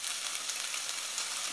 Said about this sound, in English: Just frying the spices until they're heated through.